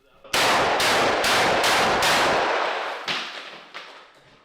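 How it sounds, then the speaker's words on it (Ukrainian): Rapid, loud gunfire from a 12-gauge shotgun in a video game, five or six booming blasts in quick succession, then a couple of fading shots. "Постріляємо трохи. 12 м калібром."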